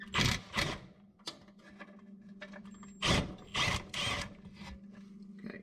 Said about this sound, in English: Let's see, get the wrench on top.